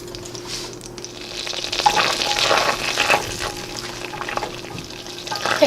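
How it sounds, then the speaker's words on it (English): Butter almost fully melted and sizzling in a pan for keto caramel pecans, a steady frothy hiss that swells a little midway, with faint clinks and no talk. "now that our butter is almost fully melted"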